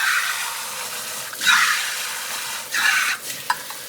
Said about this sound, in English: Hot water from the sprayer